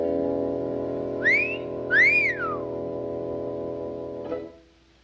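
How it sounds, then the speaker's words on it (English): A person whistles a short melody of two rising and falling notes, clear and close, over a steady electronic hum that fades out near the end. "he wants you to whistle again"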